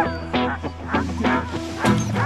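Sled dogs in snowy Kiruna, Sweden, barking and yelping excitedly before setting off, a rough burst of overlapping barks, close and loud, repeating in uneven clusters.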